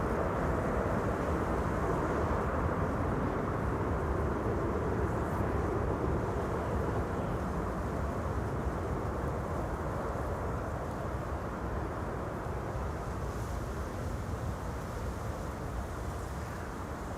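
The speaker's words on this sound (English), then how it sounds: "Well, that was the retro Transavia A321neo." A retro-liveried Transavia A321neo airliner lands with thrust reversers deployed, giving a steady, loud broadband roar that holds for the whole stretch and fades slightly toward the end, with no talk over it.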